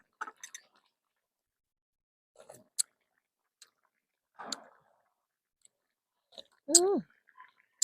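Someone eats chicken carcass curry with glass noodles, giving sparse close wet chewing and smacking bursts separated by quiet gaps, with a short vocal sound near the end.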